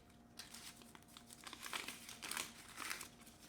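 A plastic bag of tomato seeds crinkles and rustles in irregular bursts as it is handled and tucked back into its container, close and fairly quiet, with no talking.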